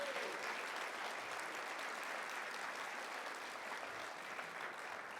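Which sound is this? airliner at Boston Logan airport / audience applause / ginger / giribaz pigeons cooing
audience applause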